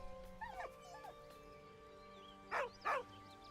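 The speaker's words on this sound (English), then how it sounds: "With a deep, heartbroken whine, the dog bows his head." Dog whining in the video game Baldur's Gate 3, thin high whimpers and yips early on, then two louder, sharper whines close together near the end, over quiet background hum.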